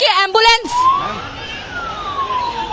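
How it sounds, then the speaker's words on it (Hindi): An ambulance siren arriving at a youth protest in Dehradun, Uttarakhand, wails with a rising and falling tone through the clip, fairly loud and close, after a brief burst of voices at the start. "देखिए ये एम्बुलेंस यहाँ पर पहुंची है"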